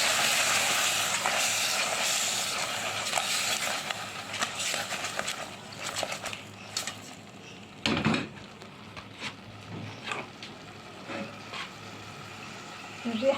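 Shrimp sizzling in a hot pan, a steady loud hiss that fades and turns uneven partway through, with a few clatters.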